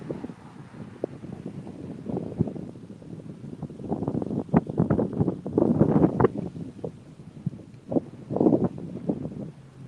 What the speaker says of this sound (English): It's very, very windy today, Salakia.